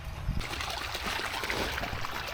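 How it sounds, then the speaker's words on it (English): Water drains out of a backyard koi pond after its drain is pulled, a soft continuous trickle and gurgle with faint splashy bursts, fairly quiet and heard without talk. "so I just popped the drain over here"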